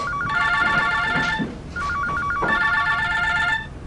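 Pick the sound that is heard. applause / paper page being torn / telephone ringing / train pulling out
telephone ringing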